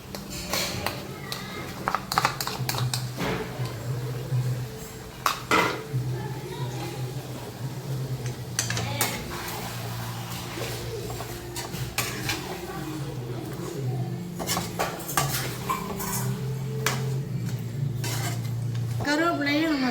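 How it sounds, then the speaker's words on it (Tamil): A spoon stirs and scrapes ginger garlic paste sautéing in a pan for a fish curry, with repeated metallic clinks and taps against the pan, a soft sizzle underneath and a voice talking at times. "சேர்த்து நல்லா வதக்கி விட்டு நல்லா வெந்து வரட்டும்"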